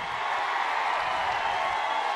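Rally crowd clapping steadily in a dense, continuous wash of applause with scattered cheers, filling the whole short stretch at a loud, even level.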